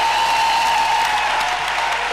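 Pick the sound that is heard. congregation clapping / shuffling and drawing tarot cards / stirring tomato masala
congregation clapping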